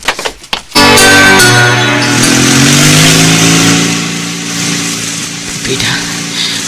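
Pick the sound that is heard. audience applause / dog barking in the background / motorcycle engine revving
motorcycle engine revving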